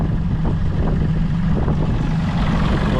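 A 1998 Mariner Bigfoot 25hp four-stroke outboard engine runs steadily at high revs, a continuous loud droning rumble with no pauses or voices.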